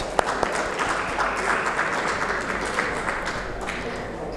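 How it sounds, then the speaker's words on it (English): Audience at an annual investment outlook event applauds to welcome a speaker on stage, steady, full clapping of a sizable crowd with a constant low hum beneath. "Please give him a huge round of applause and welcome him on stage."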